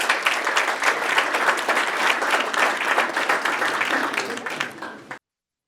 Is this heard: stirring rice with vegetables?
no